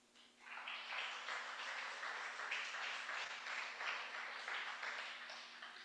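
A congregation claps steadily in applause for the Lord during a Spanish-language church service, a sustained, moderately distant wash of hands with no talking over it.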